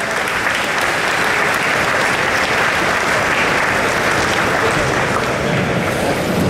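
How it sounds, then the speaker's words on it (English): Loud, dense audience applause fills a press launch hall for the new KTM 790 Adventure R at EICMA 2018, a steady unbroken wash of clapping with no voices. "please take it off, and a big applause to a very new bike"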